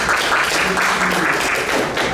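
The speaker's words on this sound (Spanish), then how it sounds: "Un aplauso para Carlos Carrillo." Audience at a fantasy literature congress applauding a speaker's introduction, dense steady clapping throughout, fairly loud and close.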